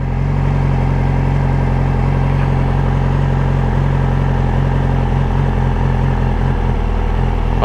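A Yamaha R6 sport motorcycle pulls away slowly in first gear without throttle, its engine holding a steady low rumble close by at a constant level for several seconds, with no talking.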